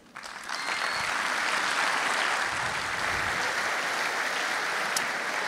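An audience at an international students' graduation ceremony applauds for the dean of the Faculty of Medicine, sustained dense clapping swelling quickly and holding loud and steady.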